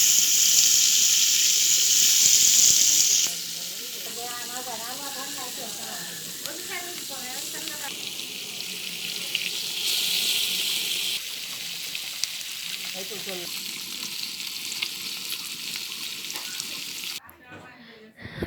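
Small puti fish coated in turmeric, chili powder and salt fry in oil in a wok, a loud steady sizzle that settles to a softer crackle, with a voice talking at times.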